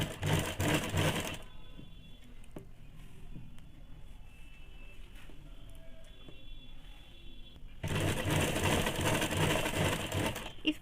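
A sewing machine stitching a doubled strip of ladies' scarf fabric half an inch from the edge runs loud and steady at the start and again at the end, with a quieter pause of light handling between.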